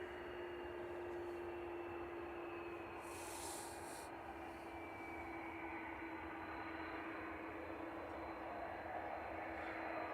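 An Aer Lingus Airbus A330-300 departs Manchester Airport, heard as a faint, distant, steady jet roar with a sustained whine held throughout and a brief hiss partway through.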